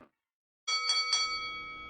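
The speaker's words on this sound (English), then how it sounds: "The sound of that bell means we're out of time" A single bell rings to signal the end of a show, giving a couple of quick struck tones that leave a clear ringing decay, faint and alone after a brief silence.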